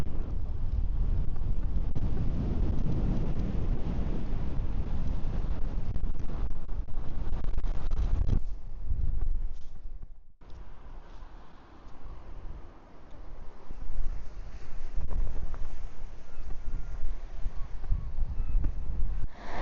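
Strong wind by a rough sea on the Guernsey coast buffets the microphone in heavy, roaring gusts, with a brief lull midway before the blustering returns; no talking is heard.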